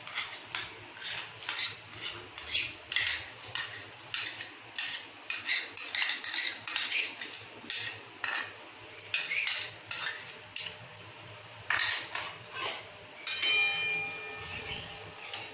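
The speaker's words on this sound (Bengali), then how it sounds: "এখন এইভাবে নাড়াতে থাকবো, নাড়িয়ে নাড়িয়ে একটুখানি শুকিয়ে নেব।" A metal spoon stirs a rice and sesame payesh in a pot. It scrapes and clinks against the pot in a steady repeating rhythm, close and clear, with no talking.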